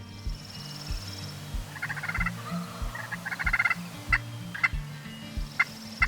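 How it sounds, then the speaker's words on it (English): A wild turkey gobbles repeatedly at a distance, rattling bursts amid faint background birdsong and low rumble, with a few sharp clicks near the end. "we heard gobbling, and he was on fire. He was gobbling and gobbling"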